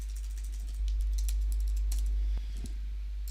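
Brief burst of computer keyboard typing while searching for a logistics chassis in a modded Minecraft game, a few light clicks over a steady low hum.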